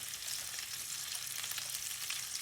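Ground turmeric, cumin, coriander and garam masala frying in a hot pan for a leftover turkey curry, giving a steady, dense crackling sizzle close by with no talk.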